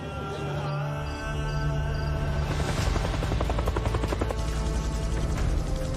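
Military helicopters fly over Mogadishu, Somalia, during a reenacted Special Forces raid on a slum neighborhood. A loud, steady rotor roar with rapid pulsing fills the whole stretch, growing denser and closer midway, with no talking.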